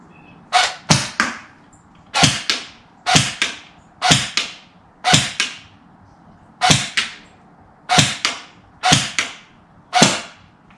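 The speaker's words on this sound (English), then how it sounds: "I think I put 7 shots on, and then I actually ran out of BBs" Airsoft rifle, a Black Rain Ordnance BRO SPEC15 Shorty, firing BBs: seven or eight sharp snapping shots, some with a quick double crack, spaced about a second apart, loud and close with no talking.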